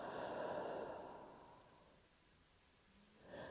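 Slow, deep exhalation during a relaxing yoga ball abdominal massage, a soft breathy rush that fades into near silence, with a faint breath returning at the end.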